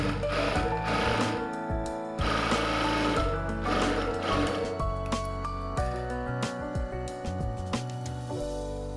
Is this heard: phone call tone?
no